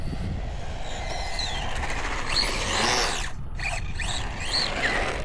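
A Hobao 1/10 Hyper EPX electric RC semi truck running with something in its belt drive rubbing, giving a continuous whirring motor hum with rising and falling whines and faint scraping, close and steady.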